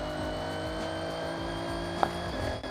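Steady high-pitched engine drone from a car with a roughly 1,200-horsepower GTR engine on a top speed run in a racing video game, holding at a continuous loud whine with a brief click near the end.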